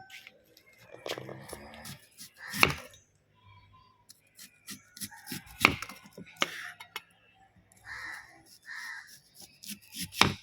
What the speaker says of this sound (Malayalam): ഉള്ളി അരിയുന്നത് ഇങ്ങനെയാണ് കേട്ടോ